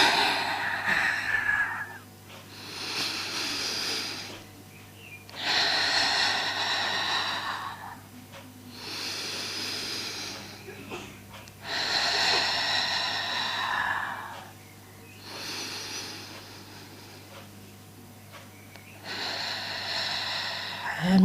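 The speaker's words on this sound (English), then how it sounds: "I'll breathe out so you can actually hear the rhythm of the breathing" A person takes slow, deep breaths in and out in a calm, steady rhythm, each long airy breath lasting a few seconds with short pauses between, close to the microphone over a low background hum.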